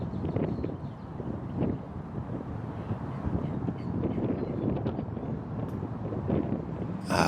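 Gusty wind buffets the microphone in a constant low roar at an outdoor disc golf tournament, rising and falling in strength, with no one speaking.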